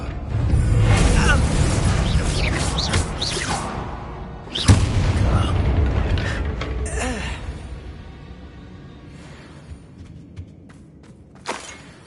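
A Bombarda explosion spell from Hogwarts Legacy goes off as one sudden loud boom in the middle of busy combat noise and whooshes, with voices speaking around it.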